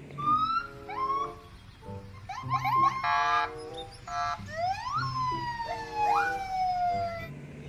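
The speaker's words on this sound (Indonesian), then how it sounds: "Mobil patroli polisi." A toy police patrol car siren, a close, loud electronic wail with rising and falling sweeps, several bursts and pauses repeating over several seconds.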